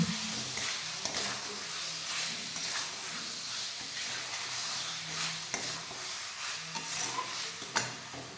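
Potatoes sautéing with spices in a pan for a Bengali fish curry, a quiet steady sizzle with soft occasional stirring scrapes, no voices.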